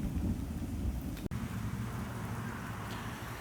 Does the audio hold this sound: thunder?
yes